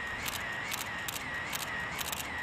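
A single-lens reflex camera shutter clicks repeatedly in a quick, regular series against steady outdoor background noise while a car is photographed in front of a roadside rotisserie chicken stand in Mexico.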